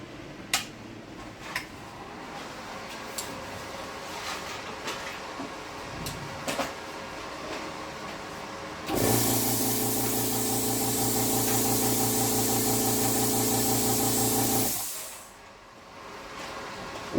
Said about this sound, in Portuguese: O motor atingiu a velocidade normal, o problema era o capacitor